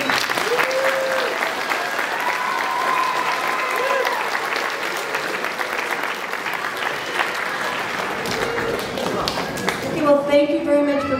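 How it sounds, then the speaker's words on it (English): A gym audience at an elementary school winter program gives sustained applause, dense clapping with voices calling out over it, and a few scattered taps near the end as it thins. "let's give a big round of applause for everyone to help make that happen"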